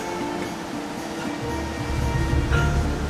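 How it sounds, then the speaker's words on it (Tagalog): Heavy rain pours during a typhoon, a steady, loud broadband roar with deeper rumbling swells toward the end. "Ang malakas yung ulan."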